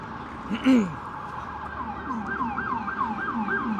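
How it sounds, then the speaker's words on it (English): A wailing emergency siren sweeps up and down repeatedly over steady New York City traffic rumble near Broadway, moderately distant, with a brief louder honk-like burst near the start. "It wouldn't be New York without sirens going off as I cross Broadway."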